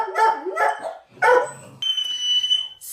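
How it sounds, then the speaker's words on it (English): Dogs bark at a window indoors, a few sharp close barks in quick succession, followed by a steady high electronic beeping tone like a smoke alarm. "why my dogs just decide to suddenly start barking, it's because Maggie is on watch on the window"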